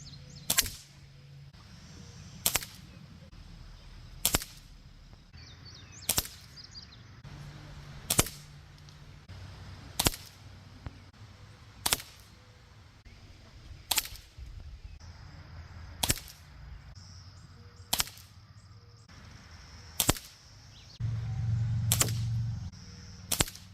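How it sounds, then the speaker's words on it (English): Crosman 760 and Daisy 880 air rifles fired from a rest, one sharp crack after another at an even pace of roughly two seconds, a dozen or so shots with no voices over them. "We're going to set both these on a rest and shoot."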